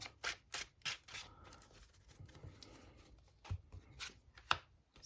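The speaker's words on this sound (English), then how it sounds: "We'll try and shuffle it just that little bit better." A deck of trading cards is shuffled close by in short, crisp bursts of riffling and snapping, separated by quieter pauses of soft handling.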